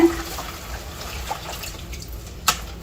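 Salt is stirred into water to make a wash for vegetables and fruit. A soft, continuous watery swishing runs throughout, with a small clink near the end.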